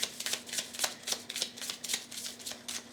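Tarot cards being shuffled in a quick, steady riffle of crisp papery flicks, close and fairly loud, with no voices over them.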